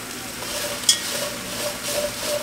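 Vegetables sizzling as they cook down in a Dutch oven, a steady close frying hiss with a sharp clink of a utensil partway through and faint kitchen hum underneath.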